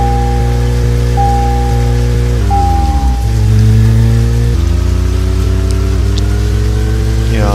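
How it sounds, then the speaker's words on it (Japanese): Heavy thunderstorm rain in the Red Seas Profile video game hisses as a constant wash under a loud, humming car engine that shifts pitch as it drives. "雷雨がすごいね。"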